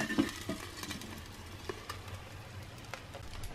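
Beef gyoza fry in a pan as they are covered with a plate and flipped: a steady sizzle with a few soft clatters near the start, no talking.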